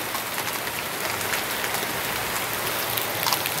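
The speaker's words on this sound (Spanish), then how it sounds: "En verdad la necesitábamos, la lluvia" Steady rain pours down in Loma de Cabrera after eight months without rainfall, a dense, even hiss of drops on surfaces that holds without a break.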